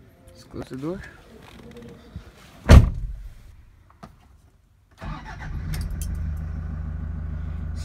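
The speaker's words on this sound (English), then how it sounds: "Close the door." A door on a 2017 Toyota Hiace GL Grandia 3.0 manual van slams shut with one sharp, loud thud close by. A steady engine idle follows, with speech around it.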